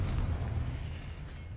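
A Confringo spell explodes in Hogwarts Legacy, a deep rumbling blast that stays loud and dense through its short span, then eases off slightly.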